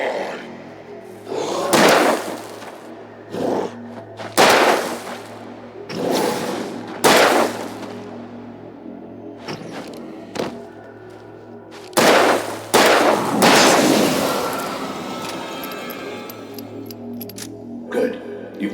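Gunshots in the video game Alan Wake Remastered ring out as a series of loud, reverberant blasts spaced irregularly over a low droning background, with some booming impacts and a voice speaking between them.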